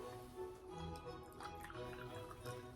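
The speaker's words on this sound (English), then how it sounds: "if you have your tea now, let's pour out together." Tea poured from a very full, heavy teapot makes a soft, continuous liquid trickle and splash, faint and steady against a muffled background.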